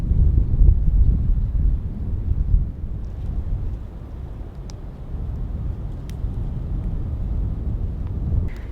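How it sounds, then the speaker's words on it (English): Strong wind on a mountain ridge along the Appalachian Trail buffets the microphone with a deep, constant rumble and gusty roar, louder at first and then steady throughout. "Because it's so windy, like this entire thing will burn up in like 5 minutes."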